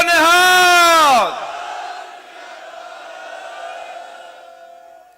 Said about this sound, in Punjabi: ਜਕਾਰੇ ਦਾ ਜਵਾਬ ਬੁਲੰਦ ਆਵਾਜ਼ ਚ ਦਿਓ ਪੂਰਾ। ਬੋਲੇ ਸੋ ਨਿਹਾਲ।